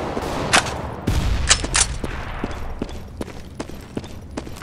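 Flashbang grenade going off in Counter-Strike: Global Offensive amid a competitive round, heard as several sharp bursts and pops over a low rumble, with scattered gunfire-like cracks spread across the scene and no talk.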